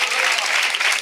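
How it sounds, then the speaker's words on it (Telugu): A church congregation at a Sunday service claps loudly and continuously, a dense burst of applause filling the room for about a second. "గట్టిగా చప్పట్లు కొట్టేసి థ్యాంక్స్ చెప్పండి"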